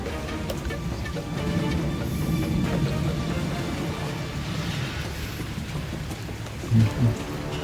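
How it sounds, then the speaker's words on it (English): Steady rain patters on hard surfaces, falling into metal pans, a dense continuous hiss with a few heavier thuds near the end; no voices. "The longer we're here, the more that rain fills up those pans."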